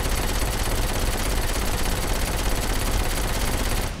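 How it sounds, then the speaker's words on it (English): Continuous automatic gunfire in the video game Saints Row 4, a dense, steady barrage of rapid shots filling the whole stretch at constant loudness with no talking, cutting off at the very end. "Hang on, let me just shoot you."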